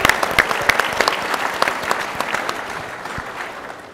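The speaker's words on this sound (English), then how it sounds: "I think that deserves an incredible round of applause." Applause from a convention audience at a swimming sports gathering, a loud, dense burst of many people clapping with sharp individual claps up front, gradually tapering off.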